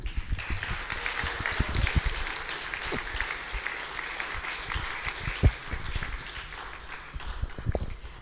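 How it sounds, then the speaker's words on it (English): Applause from an audience at a Sunday love feast gathering after a spiritual class, steady dense clapping sustained throughout, fairly close, with a few louder claps standing out. "Let's give Maharaj another round of applause."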